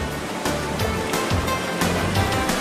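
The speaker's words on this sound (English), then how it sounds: "The Kösünlü waterfall is particularly impressive." The Kösünlü waterfall near Antalya roars with a steady, full rush of falling water. The sound is continuous and close, with no voices.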